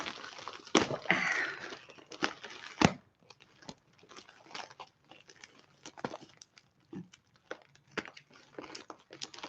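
Crinkling and tearing of packaging as a package is cut open, a cluster of louder rustles at first followed by scattered soft crackles and snips, close and fairly quiet.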